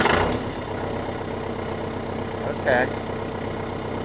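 A John Deere tractor engine restarted and idling, a steady close rumble that holds evenly throughout, with a brief spoken word at one point.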